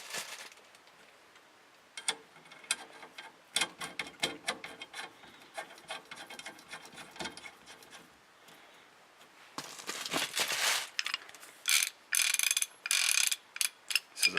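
A ratchet on the steering wheel nut of a VW Bus clicks in quick, close bursts with short pauses between them. Sharper, louder ratcheting strokes come near the end.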